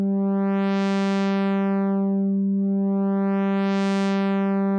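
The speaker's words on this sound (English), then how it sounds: "start to change this from a sine wave into a saw wave" A Bazille software synthesizer oscillator holds a steady tone whose timbre sweeps from a pure sine into a bright, buzzy saw wave, then back and up again, in two smooth rising and falling brightness sweeps, loud and alone.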